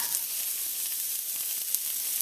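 Diced onion sizzling in hot vegetable oil, a bright, steady, close frying hiss with occasional small pops, alone without talk.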